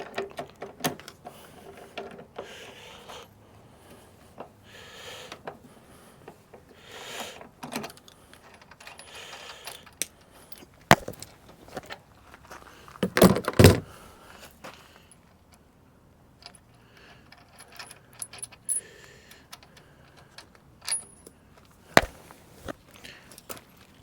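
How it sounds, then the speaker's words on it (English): Two 19mm spanners work loose the bolts of a mizzen mast tang on a boat, giving sparse metallic clicks and clanks, scraping turns and a cluster of sharper knocks, close and fairly quiet with no talking. "got my 2 19mm spanners. Let's set them both to undo."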